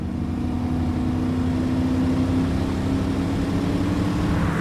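A 1988 Aston Martin Virage V8 hums along under load, a steady deep engine note with a sustained low tone that holds constant throughout, loud and close.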